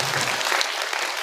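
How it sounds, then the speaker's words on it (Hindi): Loud, dense applause from an audience at a Buddhist gathering, continuous and close throughout the short stretch. "एक बार जोरदार ताली बजाकर इस महत्वपूर्ण उपलब्धि के लिए आप स्वागत करें।"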